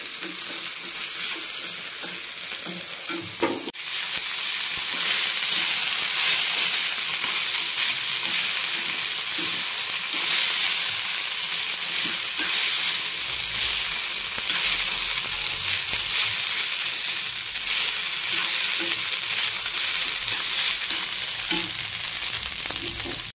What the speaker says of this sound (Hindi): मैंने भात फ्राई कर लिया है